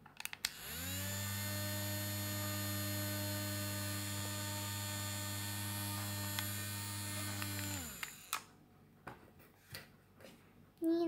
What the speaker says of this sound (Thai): ถ้าทุกคนได้ยินเสียงแบบไม่ต้องตกใจนะคะเสียงพัดลมค่ะ